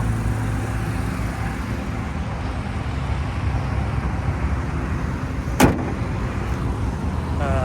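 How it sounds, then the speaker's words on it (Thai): A 2010 Honda Civic FD idles smoothly and steadily close by, a low continuous engine hum with one brief knock partway through. "เครื่องยนต์เดินนิ่มเรียบนะครับ"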